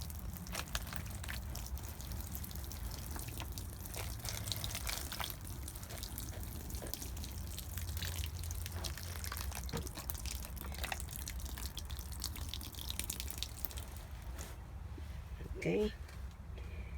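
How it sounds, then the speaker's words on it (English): Water poured from a watering can onto seed trays during indoor seed starting, a soft continuous trickle and splash that runs steadily for many seconds, faint and close, with a person talking intermittently. "And we're gonna water."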